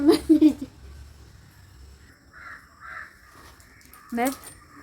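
Crows caw loudly nearby, a few harsh calls at the start and again near the end, with quieter sounds between.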